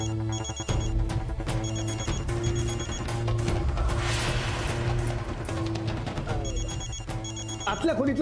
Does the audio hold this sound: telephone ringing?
yes